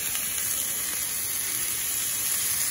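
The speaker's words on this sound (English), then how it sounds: "the burger patty down, and we're gonna let it sear and get some color to it" A burger patty sears on a hot griddle for a steady, close sizzling hiss with no break, and nobody speaks.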